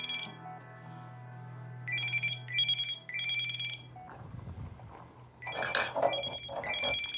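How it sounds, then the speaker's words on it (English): A telephone rings in a home, its bell trilling in repeated bursts close by, with a brief shuffling rumble in the middle before the ringing resumes. "the phone rings mere inches from his feet"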